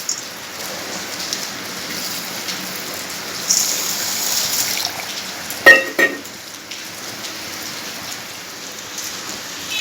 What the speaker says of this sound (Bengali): চাল আর ভেজে রাখা ডাল আমি একসঙ্গে ধুয়ে নিচ্ছি